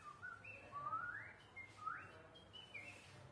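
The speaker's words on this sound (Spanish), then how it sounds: "siempre hay este sonido del pájaro que hace como" A bird sings a series of soft, clear whistled phrases with rising and gliding notes, spaced a moment apart over a quiet background.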